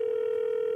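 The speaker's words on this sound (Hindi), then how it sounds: "दूसरे कॉलर को फोन लगाते हैं" A telephone dial tone hums as the next caller's line is rung, a single steady pitch held unbroken and clear with nothing else audible.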